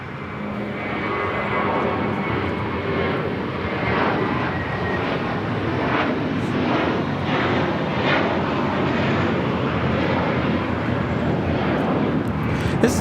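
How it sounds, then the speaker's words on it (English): Cathay Pacific Boeing 777 pushing back at Los Angeles International Airport, a steady, broadband jet engine roar holding at even loudness throughout, with no talk over it. "Cathay Pacific, the 777, now pushing back. This flight will be heading to Hong Kong."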